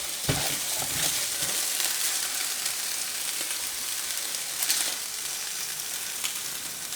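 Fish frying in a pan, a steady loud sizzle and crackle running throughout with a few brief pops and stirring scrapes.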